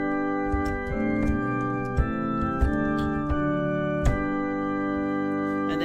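Sampled pipe organ register from the Arna organ played on a Casio CT-X700 keyboard: a full, sustained organ chord progression with steady held tones and soft note changes, alone and fairly loud.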